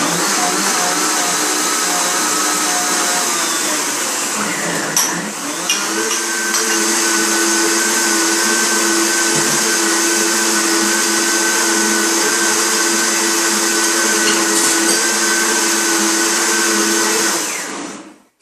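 An electric blender purees a raw eggplant marinade sauce with a loud, close motor whir, dipping briefly in pitch partway through, then continuing steadily until it cuts off at the end.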